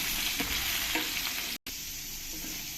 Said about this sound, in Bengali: দিয়ে ভালো করে আমি নেড়ে একবার ভেজে নেব